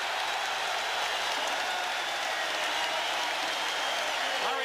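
A large arena crowd at a 1987 NBA Finals basketball game between the Los Angeles Lakers and Boston Celtics roars in a loud, continuous wash of cheering and applause that holds steady throughout.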